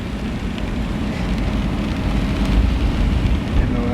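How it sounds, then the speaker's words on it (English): Steady, loud broadband wash of heavy rain during a flash flood storm near Highway 43 in the Colorado Rocky Mountains, constant and close throughout with no talk. "And the rain is still coming."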